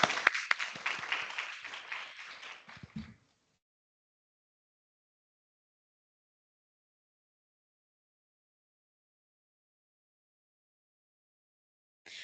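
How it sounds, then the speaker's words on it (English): An audience claps in a short burst of dense applause for about three seconds, then the room drops to silence before a brief return of clapping at the very end. "We can give her a round of applause."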